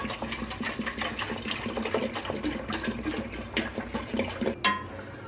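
Two litres of milk pour steadily over washed polao rice for shahi firni, a continuous close liquid rush and splash running throughout with a brief pause near the end.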